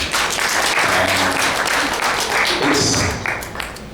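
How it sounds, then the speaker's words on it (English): Audience clapping at a CEO breakfast on insurtech, a full, steady round of applause that holds for a few seconds and then begins to thin out. "A big round of applause for that."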